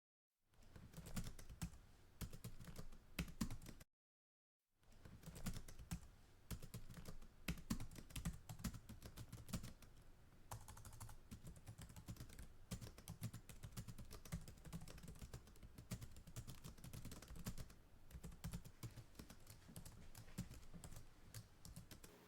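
Steady typing on a computer keyboard while a file is created in a React Native project, a continuous run of close key clicks with one brief silent gap near the start.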